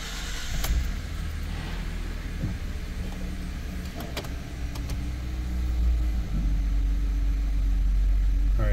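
Car engine running at a steady low idle, filling the whole stretch with a continuous rumble and light clicks, likely from a vehicle with a transmission dropping into limp mode after warming up.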